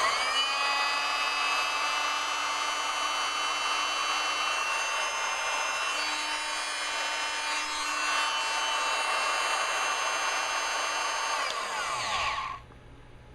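A Harbor Freight oscillating multifunction power tool (item 68861) runs steadily with a high, buzzing whine, loud and close, for about twelve seconds before cutting off abruptly.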